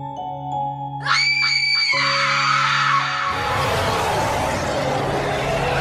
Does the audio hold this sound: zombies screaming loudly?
yes